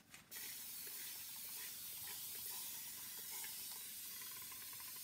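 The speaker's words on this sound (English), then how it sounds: "I could do it right here with this misting bottle. I'm just gonna mist." Misting spray bottle sprays water onto a painted jewelry box in one long, steady, close hiss that starts after a short click and runs without pause.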